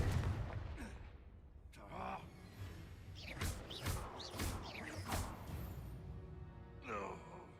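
Confringo spell blasts in a video game, with whooshing bursts and impacts under shouted voice lines. The blasts come in a quick cluster near the middle, with more calls around them.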